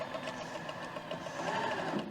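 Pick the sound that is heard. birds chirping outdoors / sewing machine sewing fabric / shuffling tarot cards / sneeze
sewing machine sewing fabric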